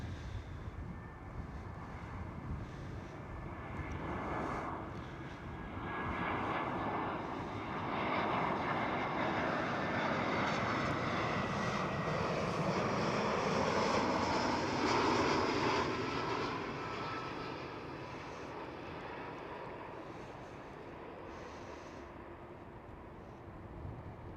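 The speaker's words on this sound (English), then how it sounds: "Next one up, Air France A320." An Air France Airbus A320 jet airliner passing at Amsterdam Schiphol airport, a broad roaring engine rush that swells to a peak midway and slowly fades, steady and moderately distant, no talking.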